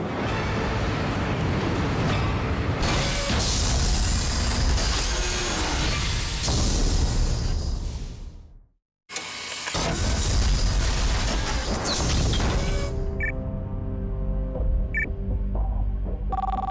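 Mining conveyor belt system of the F-60 at the Genschwalde mine in Germany, running with an unknown object rolling through it, gives a loud continuous rumbling, grinding roar that drops out briefly midway, then resumes with clanking and scattered tones.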